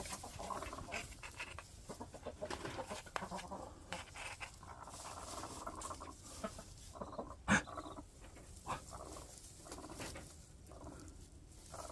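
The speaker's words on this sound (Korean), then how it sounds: "무슨 병아리 소리가 나는데?" High, thin peeping of newly hatched chicks mixed with other bird calls and soft rustling, fairly close, with one sharper chirp standing out briefly.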